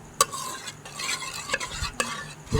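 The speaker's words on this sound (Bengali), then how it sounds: "ভালো করে মিশিয়ে নিতে হবে।" A spoon stirs and mixes ingredients for sweet yogurt in a bowl, soft scraping swirls with a few sharp clinks against the container, close and fairly quiet, with no talk.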